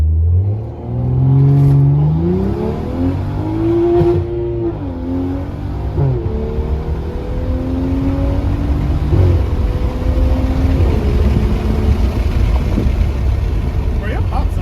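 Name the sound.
tuned car accelerating with exhaust pops, Subaru WRX vs BMW 535i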